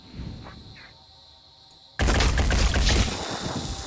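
Gunfire in the Phoenix Point: Terror from the Void strategy game, a quieter stretch suddenly giving way to a loud, dense burst of shots and impacts that continues for the remaining couple of seconds.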